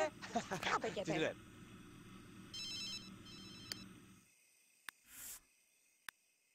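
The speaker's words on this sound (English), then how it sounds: "Oh, my phone's going off." A mobile phone rings during a video game session, with a repeating electronic ringtone pattern after a burst of speech, fairly faint and followed by scattered clicks and brief noises.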